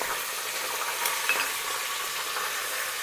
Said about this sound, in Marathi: आता जिरे पण आपले चांगले तडतडले आपल्याला कढीपत्ता घालायचा आहे